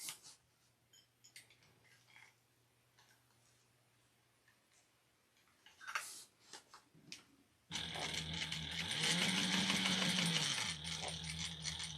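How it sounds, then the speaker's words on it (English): Sewing machine back stitching a crossbody bag: quiet ticking and handling at first, then the machine runs loud and continuously near the end. "I'm just going to back stitch over this area"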